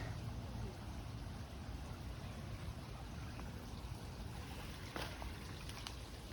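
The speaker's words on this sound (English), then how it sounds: "obviously you can watch the creek and listen to the sounds" Faint, steady trickle of flowing water, a soft continuous babble with no voices.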